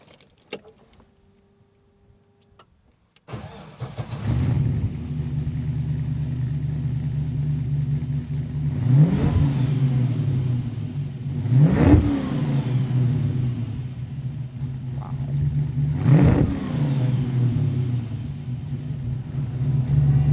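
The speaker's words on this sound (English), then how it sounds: "right now, let's start it. Let's listen to this LS3." A 1939 Buick restomod with an LS3 V8 cranks and fires after a few quiet seconds, then settles into a loud, deep idle broken by three sharp throttle blips that swell and fade.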